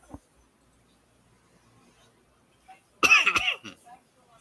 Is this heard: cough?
yes